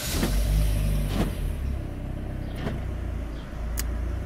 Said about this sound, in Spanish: Ahí tengo el carro con el switch abierto, lo voy a encender.